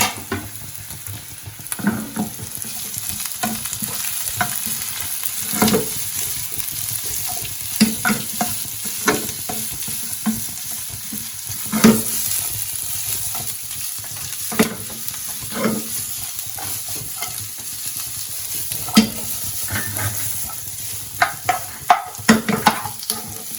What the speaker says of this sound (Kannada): ನೆಕ್ಸ್ಟ್ ಆನಿಯನ್ ಹಾಕೊಳ್ಳೋಣ. ಆನಿಯನ್ ಸ್ವಲ್ಪ ಬೆಂದಾದ್ಮೇಲೆ ಆಮೇಲೆ ಕ್ಯಾಪ್ಸಿಕಮ್ ಹಾಕೊಳ್ಳೋಣ.